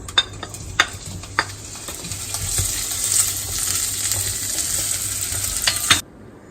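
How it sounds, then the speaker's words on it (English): Cubes of pancetta frying in olive oil give a steady, close sizzle after a few sharp clinks of utensil against pan, then stop abruptly near the end. "So I'll add a little drizzle of olive oil, and then add in the pancetta"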